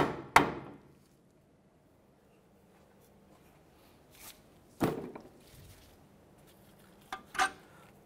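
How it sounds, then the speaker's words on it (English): A few sharp metallic strikes on a pinch bolt at a Mitsubishi Outlander wheel hub during wheel bearing work, one loud blow followed by quieter separated hits with pauses between them. "we're going to go ahead and hammer that bolt through"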